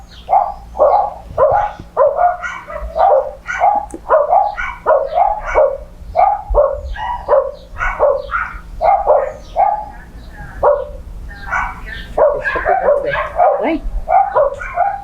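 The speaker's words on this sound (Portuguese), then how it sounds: "essa cadela ali, ela tem filhotes ali, ó?" A female dog with puppies barking in a rapid, near, loud run of yips and barks that continues almost without pause.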